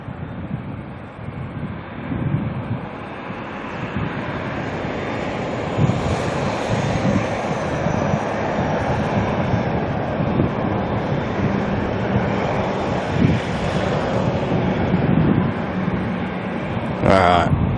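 Boeing 787-10 airliner taxiing toward the runway at Auckland Airport, a steady broad engine rumble and whine that holds loud and fairly close throughout, with a person talking over it.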